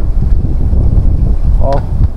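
Strong wind buffets the microphone in a continuous heavy roar, with a brief faint tonal sound partway through.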